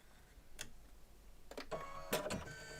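Machine embroidery on a home embroidery machine, faint mechanical ticking and a few brief rattling bursts of stitching, quiet and close with no talk.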